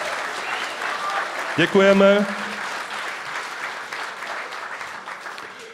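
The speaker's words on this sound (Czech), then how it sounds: "velký potlesk" Audience applause at a Czech stage event honouring a performer, a broad steady clapping wash throughout, with someone briefly speaking and a short sung or tonal voice rising over it midway.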